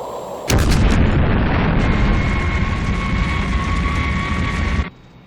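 Missiles 5 and 6 launch in a Thunderbirds TV effect, a sharp cracking ignition followed by a sustained roaring rush that cuts off abruptly after about four seconds.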